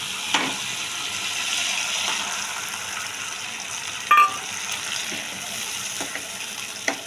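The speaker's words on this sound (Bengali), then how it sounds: "ওটা দিয়ে একটু জল দিয়ে দেবো।" Water is poured from a rinsed mixer jar into mustard paste in a cooking pot, making a soft continuous splashing trickle. A brief metallic clatter breaks in midway.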